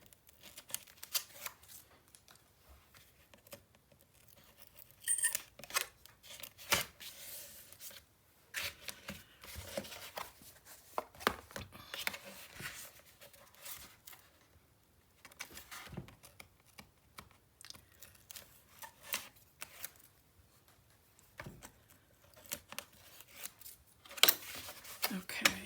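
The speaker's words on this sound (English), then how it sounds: "Now I'll sneak in here and I'll remove these 2 tapes." Tape strips peeled off a Stamperia Vintage Library mini album, giving repeated short crisp rips and crackles in bursts with quiet handling between them, close up and without talk.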